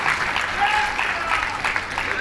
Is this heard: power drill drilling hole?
no